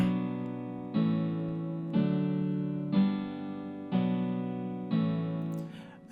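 A sustained chord from MusicLab's Real Guitar 3 plugin in MIDI mode, played six times about once per second, each strike ringing and slowly decaying before the next, with no voices.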